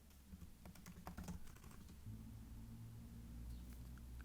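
A password tapped out on a computer keyboard, a quick irregular patter of soft key clicks over a steady low room hum, heard close and fairly quiet with no talking.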